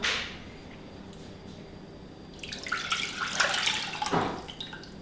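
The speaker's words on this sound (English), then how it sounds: "I'm going to pour the meat juice in there" Meat juice poured from a bowl into a small saucepan, a quiet start giving way to a splashing, trickling pour that swells in the second half and ends with a final splash and drip, close by with no talk.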